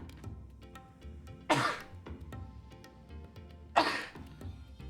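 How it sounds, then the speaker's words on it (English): A person sneezes twice, two sharp, breathy bursts a couple of seconds apart over quiet background music. "Oh, I sneezed."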